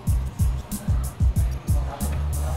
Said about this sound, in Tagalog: engine start, off, and then start ng engine.